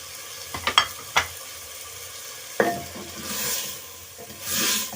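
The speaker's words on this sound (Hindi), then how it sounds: "2 से 3 मिनट हमने इसे चलाना है, फिर हम इसे ढक के रख देंगे।" Spices and tomatoes for a matki, peas and potato curry are stirred in a pan, with a few distinct scraping knocks over a gentle background sizzle and soft swishes toward the end.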